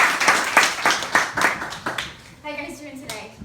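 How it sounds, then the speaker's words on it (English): An audience at a team event claps and cheers in a dense burst of applause that fades after a couple of seconds, followed by a single voice speaking. "Can we give her a round of applause?"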